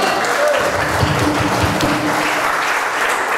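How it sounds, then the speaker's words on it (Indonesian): Congregational applause at an evangelistic church service, a steady wash of many hands clapping at close range, sustained and even for a few seconds with a faint voice underneath. "Tepuk tangan"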